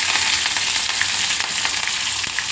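Curry leaves sizzle loudly in hot oil with green chillies for a vermicelli shavige bath, a close, continuous crackling fry with no talking.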